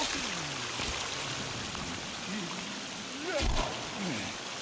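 Steady rushing stream water in the survival game Sons of the Forest, faint and continuous with a short louder splash, under a talking voice.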